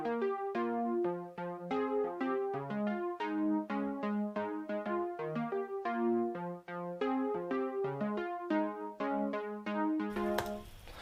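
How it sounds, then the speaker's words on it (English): A soft layered synth patch built on a saw wave plays a chordal pop riff, smooth sustained notes moving in a steady pattern, moderately quiet, ending in a brief burst of noise. "this is the first layered sound, and it's based on a saw wave, and it's just a bit of a softer sound"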